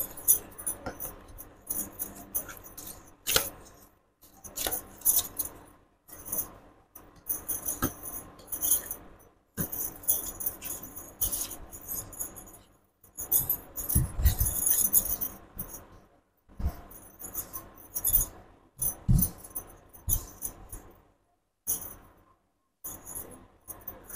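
Tarot cards being taken out and handled, a close, quiet series of soft shuffling, flicking and tapping sounds in irregular bursts with short silent gaps, no talk.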